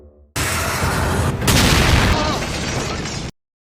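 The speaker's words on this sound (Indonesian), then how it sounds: "Nathan James berhasil menghalau tembakan pertama, tapi tidak dengan serangan kedua." Heavy boom of a missile striking a warship in a TV drama series: a sudden loud blast rolling into a sustained roaring, crackling rumble for about three seconds, then cut off abruptly.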